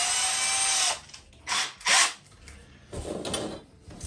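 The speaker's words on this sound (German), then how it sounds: "Wir brauchen auf jeden Fall einen Bohrer" Short bursts from a power drill used for building H0e model railway track, a sustained whir at first, then two brief revving pulses and a rougher grinding stretch, close by with no talk.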